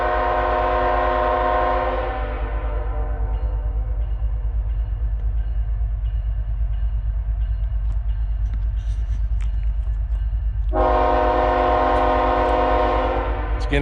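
A slow-moving train rolls past very close by, blowing a long, loud, steady horn that stops, leaving the heavy rumble of the cars, then sounds again loudly.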